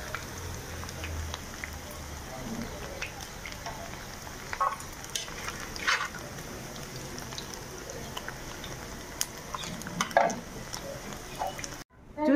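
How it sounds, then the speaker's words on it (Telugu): Chicken fried rice frying in hot oil in a pan gives a faint, steady sizzle with scattered small crackles and pops throughout, and no talking. "చూసారు కదండి ఈ విధంగా అయితే ఫ్రై చేసుకుంటే సరిపోయిద్ది"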